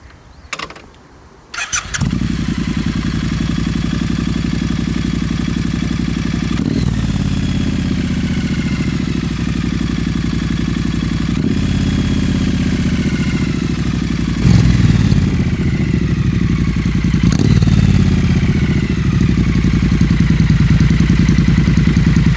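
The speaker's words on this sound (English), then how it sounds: "here's a little clip of what they sound like" A Triumph T100 motorcycle fitted with Shorty Predator Pro mufflers starts up after a few clunks, then settles into a loud, steady idle with a deep exhaust burble and a couple of brief revs, close and without talk.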